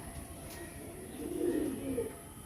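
A teddy pigeon coos softly, a low rolling call rising midway through and fading, heard close against a quiet background with no talk.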